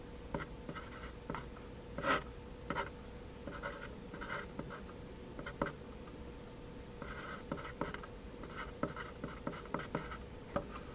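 Pen or pencil writing on paper during a geometry lesson, soft close scratching strokes with small taps, irregular and quiet, with no speech.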